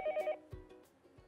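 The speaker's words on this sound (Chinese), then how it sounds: "接下来我们有一通粉丝电话已经接通了" A telephone call connects during a live music radio show: a short burst of repeated electronic beeps, then a faint hollow line hiss with a few soft clicks, no voices.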